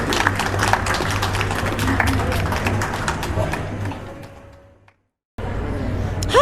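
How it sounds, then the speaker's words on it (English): Audience applause at the close of a live stage talk on healing backache, a steady dense clapping that fades out into a brief silence before the room sound returns. "Round of applause, please."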